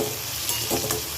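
Masala for an egg curry is stirred in a hot pan, giving a short, close burst of steady sizzling with soft scraping strokes, no voices.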